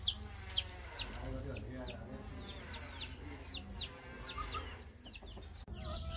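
Local village chickens give faint, repeated short calls in a steady scatter over low background noise, all quite distant and quiet.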